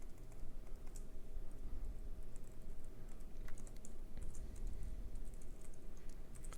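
Quiet, steady typing on a computer keyboard, a soft continuous patter of keystrokes over a low room hum with no voices.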